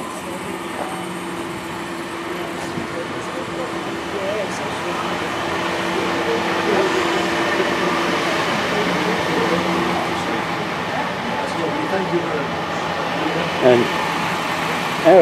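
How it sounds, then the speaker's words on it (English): Talyllyn Railway locomotive number 7, Tom Rolt, stands at Abergynolwyn Station with a steady, even hum and hiss, with occasional faint clanks and people talking nearby. "Locomotive number 7, Tom Rolt."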